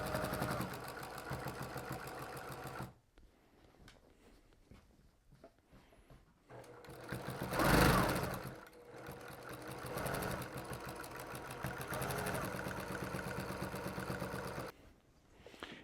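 A domestic sewing machine fitted with a walking foot stitches through thick Minky fabric on a bead-filled weighted blanket, a steady mechanical hum with pauses where it stops and restarts.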